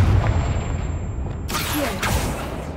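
A Confringo spell explosion in the game Hogwarts Legacy gives a burst of fiery noise with a second swell just after it. It sits over a steady low rumble of game sound.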